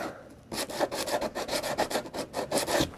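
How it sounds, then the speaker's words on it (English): Sandpaper rubbed over rough wood by hand, a quick run of rhythmic back-and-forth rasping strokes, close and steady. "I'm going to just hit it with a little sandpaper and get that roughness out of the way."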